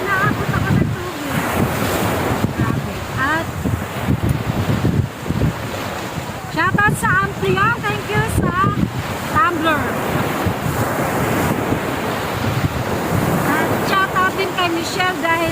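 Sea waves washing onto a beach on Fortune Island with wind rushing past the microphone, a steady roaring wash with gusty buffets, while people talk and laugh nearby throughout.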